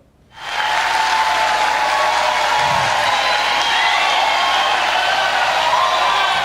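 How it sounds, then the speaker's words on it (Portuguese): Sustained applause from a large crowd at a formal ceremonial session starts suddenly and continues steadily, dense and loud throughout. "Muito aplaudido por todos que participaram da sessão solene, Clécio Salvaro"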